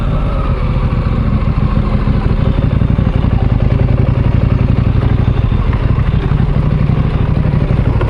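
A motorcycle engine runs loud and close on a steep bush track, a continuous throbbing chug with clattering mechanical rattle and no talk over it.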